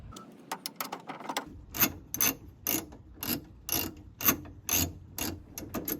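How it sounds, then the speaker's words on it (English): A ratcheting wrench removes a bolt tucked behind the driver door panel of a Chevy HHR, giving a close, steady run of sharp metallic clicks in short bursts, with no talking. "I used a 10mm ratchet on this side to speed it up, but I had to use, you know, the ratcheting wrench to get up in there"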